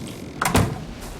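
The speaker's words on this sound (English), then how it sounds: "All the doors closed." A door in the game Ark swings shut with a quick, close thud and a short rattle, standing alone over a low background hum.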